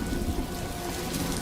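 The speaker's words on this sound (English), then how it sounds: "Oh, and it's raining." Steady rain falls in a television drama scene, a dense, even hiss of drops on a surface, then it cuts off abruptly at the end.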